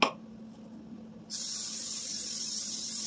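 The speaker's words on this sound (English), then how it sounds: "I'm gonna take some canola oil spray." Canola oil cooking spray hisses steadily onto a 9 by 13 glass Pyrex baking pan, a continuous bright spray starting partway in and holding to the end after a short quiet lead-in.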